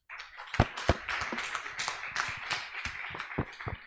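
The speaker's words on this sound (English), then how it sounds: "all of you deserve a huge round of applause for yourself" Clapping from a small group at the Solar Decathlon India 2024 finals, a few sharp, louder claps standing out over a steady patter that carries on for several seconds.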